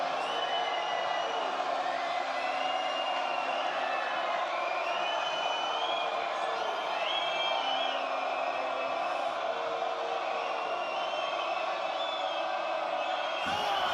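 Noisy crowd in a weightlifting arena at a world championship super-heavyweight event, a steady wash of chatter, whistles and shouts from many people that never quiets, with no single voice standing out.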